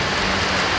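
Dense, loud rain hammering steadily on a surface, a continuous wash of drops with no pauses.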